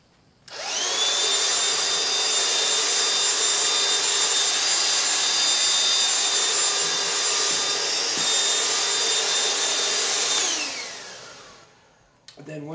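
Handheld bug vac sucking insects off plants runs as a steady, loud motor whine with a high tonal hum for about ten seconds, then spins down and stops.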